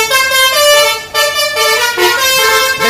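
A loud multi-tone basuri vehicle horn mounted behind a car's windbreaker blares close up in sustained blasts with a brief break, its harmonic chord ringing out alone.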